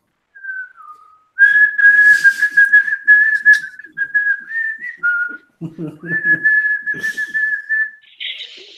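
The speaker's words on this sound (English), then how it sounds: "I'm gonna start whistling. Cheery song." A person whistles a cheery tune, a clear sustained melody with short breaks, close and loud, with a few brief rustles and low bumps in between.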